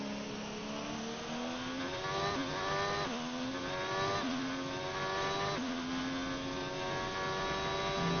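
A Ferrari Formula 1 car engine in a racing video game screams at high revs, its pitch climbing through the gears with brief dips at each shift, loud and continuous with no voices.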